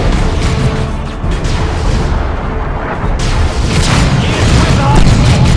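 Artillery fire and explosions in Warhammer 40,000: Chaos Rising, heavy repeated booms and crackling bursts rolling continuously at loud volume, with battle voices calling out beneath the barrage.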